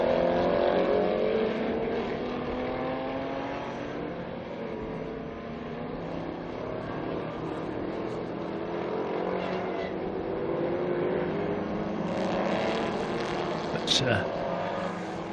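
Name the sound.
historic race cars racing at Estoril after full course yellow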